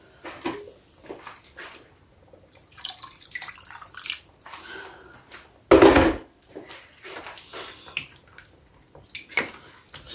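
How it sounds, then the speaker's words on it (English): Water is poured into a tomato and turkey stew in a pot, a brief loud splashing pour near the middle amid scattered clinks and stirring sounds. "I can add a little bit of water."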